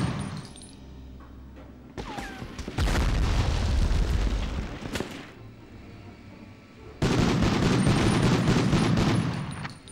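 Grenade blast in the PS1 game Medal of Honor, several heavy booms and bursts of gunfire-like cracks separated by quieter stretches, loud and close, with no talking.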